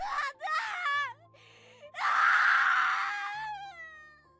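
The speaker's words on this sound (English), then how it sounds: "Nica's screams had turned into a quiet, barely audible wail" A woman's quiet, wavering wail in the CAIN X NICA video game, drawn-out moaning cries rising and falling, with one louder sustained outburst in the middle before sliding back to a soft whimper.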